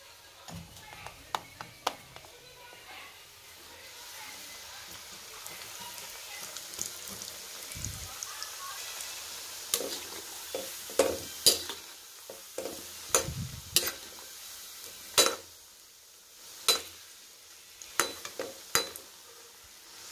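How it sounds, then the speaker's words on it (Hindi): Mathri frying in oil over a medium flame: a low, steady sizzle broken by scattered sharp crackles and pops that grow more frequent toward the end, with no voices. "तो सारी मठरी बन गई हैं, चलिए इनको हम फ्राई करेंगे।"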